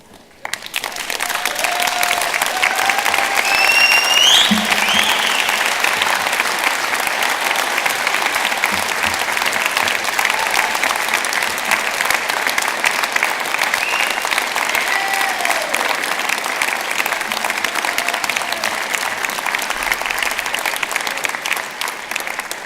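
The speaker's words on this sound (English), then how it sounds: "to face those in this hall, you can see where they are, and to really applaud and thank them" Sustained loud applause from a large crowd fills a big hall at a university graduation ceremony, continuous and even for over twenty seconds, with a few whistles early on.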